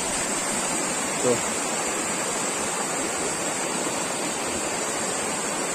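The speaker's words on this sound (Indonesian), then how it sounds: "Nah, ini ya aliran dari air terjun Ambon Suri." Constant rushing of flowing water from the Ambon Suri waterfall stream near Padang, steady and loud, with a brief spoken word early on.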